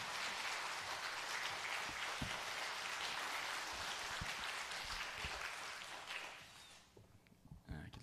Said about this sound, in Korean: 우리 뜨겁게 박수로 모시겠습니다.